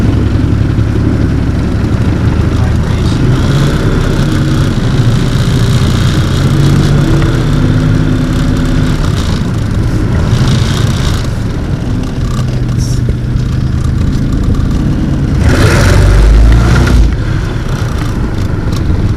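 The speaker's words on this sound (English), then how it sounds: "I like that supercharger whine." A Pontiac Fiero's swapped 3800 engine drones loudly with a high supercharger whine riding over it, swelling near the end as the revs climb.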